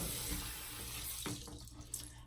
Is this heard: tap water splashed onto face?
yes